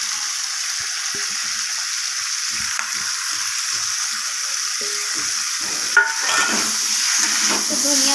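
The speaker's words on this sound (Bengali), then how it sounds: "তো ধনিয়া পাতাটা দিয়ে আমি আবারও একটু নাড়াচাড়া করে নিচ্ছি।" Potato and capsicum curry with fresh coriander leaves sizzles in a frying pan while being stirred, a steady hiss with scraping spoon strokes throughout and a louder clatter near the end.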